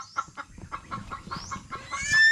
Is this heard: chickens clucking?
yes